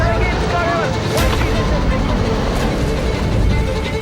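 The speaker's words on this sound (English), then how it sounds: "you can hear the boat compensate for the skiers pulling it over the board of the skis" A motorboat engine towing a water skier drones steadily at close range, with rushing water and a faint babble of voices in the background.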